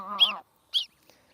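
Young goslings honk in two short nasal calls, the first longer and louder, the second brief, close by in otherwise quiet surroundings.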